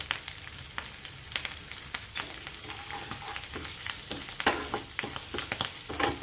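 Curry leaves and turmeric crackle in hot oil, a soft continuous sizzle punctuated by sharp spitting pops at irregular intervals, close by and fairly quiet, with no talk.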